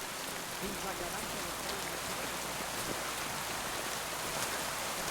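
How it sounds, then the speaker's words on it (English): Heavy rain in the medieval world of Kingdom Come: Deliverance II pours as a steady, dense hiss, unbroken and fairly loud for the whole stretch, with no voices over it. "Man, it's a heavy rain."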